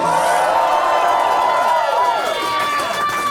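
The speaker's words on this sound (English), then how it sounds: "I would like to hear a preemptive round of applause for tonight's headliner" Club audience at a live show in Columbus, Ohio claps and cheers for the headliner, a dense steady wash of applause with voices and whoops, fairly close.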